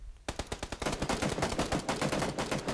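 Automatic gunfire in the video game PUBG on Xbox rattles in a fast, sustained burst of sharp repeated shots, fairly close and steady, with no speech over it.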